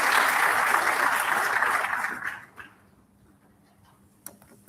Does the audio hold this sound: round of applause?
yes